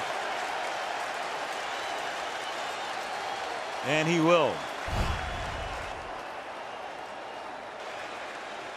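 A football stadium crowd at an NFL game between the Bears and Eagles keeps up a steady, roaring din, swelling briefly near the middle while a commentator speaks a few words over it.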